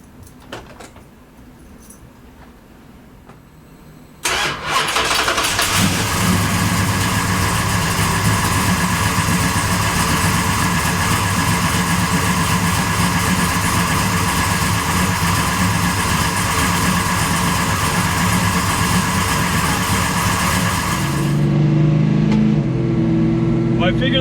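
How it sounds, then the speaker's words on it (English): A Chrysler car engine cold-starts, cranking and catching after a few quiet seconds, then idles loudly and steadily close by, with a brief rev change near the end. The car has a converted one-wire alternator with new brushes. "what do you say we do a little bit of a cold start?"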